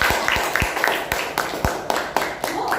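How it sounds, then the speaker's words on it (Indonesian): A classroom of students claps together in a lively, uneven patter of sharp hand claps, close and fairly loud, with faint voices beneath. "Silakan tepuk tangan dulu."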